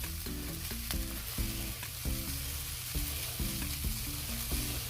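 Shrimp fried rice sizzles steadily in a hot wok, Chinese style, as soy sauce is mixed in, with repeated stirring scrapes over the continuous crackle and faint low tones underneath.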